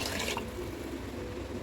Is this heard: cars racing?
no